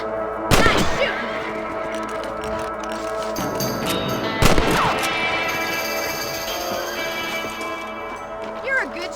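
Two sharp rifle shots ring out about four seconds apart in Red Dead Redemption as rabbits are hunted on a ranch, followed by a fainter third crack, over steady in-game ambience and background voices.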